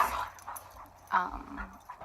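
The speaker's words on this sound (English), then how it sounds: "Of course my dogs are going to want to play now." Several dogs play in a room, giving soft whimpers, yips and small growls in short bursts, fairly close but not loud.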